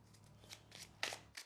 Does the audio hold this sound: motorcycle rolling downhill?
no